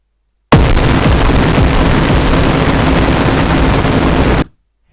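One huge, heavily distorted kick drum hit that blooms into a wall of roaring noise, sustaining loudly for about four seconds before cutting off abruptly.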